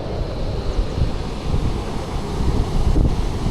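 Strong, steady rushing water of the Mula Vagu stream at Vemulawada, swollen after morning rain, with a broad, continuous roar, close and loud, partly buffeted by wind against the microphone.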